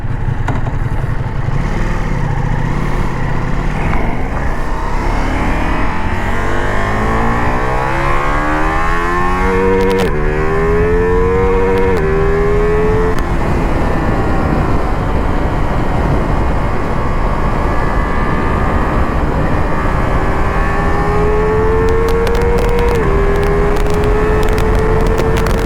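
A Ducati Multistrada V4 S adventure motorcycle in sport mode accelerates hard on a highway, its engine pitch sweeping upward through several gears with brief dips at each shift, loud and close amid steady wind roar.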